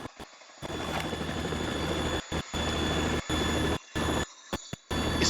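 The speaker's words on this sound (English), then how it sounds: "It's a chopper." A helicopter flies in the video game Metal Gear Solid 2, giving a loud, steady rotor roar with mechanical rumble. The sound cuts out abruptly several times.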